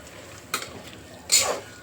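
Chicken pulao ingredients being sautéed in a home kitchen pan, with a few short scraping bursts from stirring over a quiet background and no talking.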